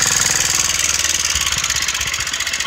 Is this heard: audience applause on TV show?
no